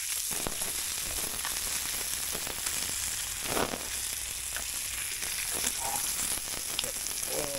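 Porgy fish wrapped in prosciutto fries in hot oil in a pan, giving a steady, dense sizzle with scattered pops and crackles throughout, close and fairly loud, with no one speaking.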